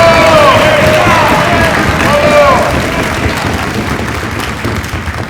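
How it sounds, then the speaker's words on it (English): Outdoor crowd applauding and cheering a hero at a New Orleans ceremony welcoming General Lafayette, loud broadband clapping with whistles and crowd noise that slowly fades over several seconds. "Come, help me applaud our great hero."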